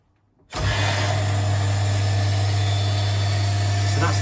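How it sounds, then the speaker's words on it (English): A water pressure booster pump starts abruptly after a brief quiet moment and then runs steadily with a low mechanical hum and a broad rushing noise. A tap is open and the cupboard door stands open. "So that's the sound of the pump with the tap going."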